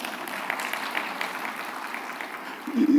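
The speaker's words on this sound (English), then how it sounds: "please go ahead and clap." Audience applause at a closing ceremony, a steady wash of many hands clapping for about three seconds, with a voice starting up at the end.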